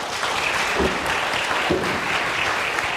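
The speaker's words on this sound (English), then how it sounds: "Let's give them a round of applause." A church congregation applauds its mental health panelists, a steady dense roar of many hands clapping at once, evenly loud throughout with no breaks.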